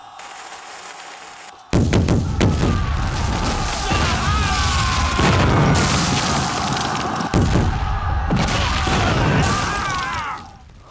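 A battle video game with loud cannon fire and explosions: a sudden heavy boom starts a dense, roaring barrage of blasts and rumbling that keeps going, with a few sharper cracks, then fades toward the end.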